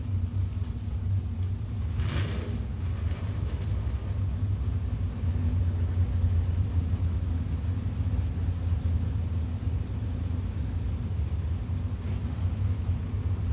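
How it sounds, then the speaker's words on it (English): A drag racing car, a 350-powered 4th gen Firebird or 6.2 liter 5th gen Camaro, idles with a steady low engine rumble after its burnout at Gainesville Raceway, restarting and rolling forward, fairly distant and continuous. "Sounds like Marion's car may have quit after the burnout, but he's got it fired up now and rolling forward."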